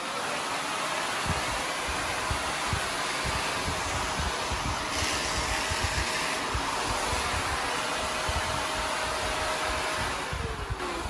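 A Shark NV752 Rotator Powered Lift-Away TruePet upright vacuum runs steadily, a loud constant whooshing motor roar with a faint tone, continuing unbroken throughout.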